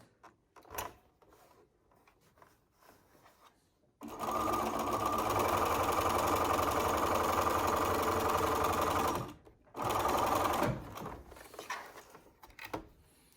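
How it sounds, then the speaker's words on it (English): A sewing machine stitching a face mask runs in a steady rapid whir for several seconds, stops briefly, then stitches again in a shorter burst, with quiet handling noises between. "Line it back up with the sewing machine."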